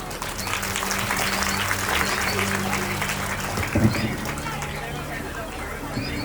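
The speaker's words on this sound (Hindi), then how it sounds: "ताली बजाकर के सांसद जी का सम्मान करते रहे" Crowd applause at a Shrimad Bhagwat Katha religious gathering in Chandigarh, honoring a member of parliament; continuous clapping runs throughout, with an amplified voice and steady tones sounding over it.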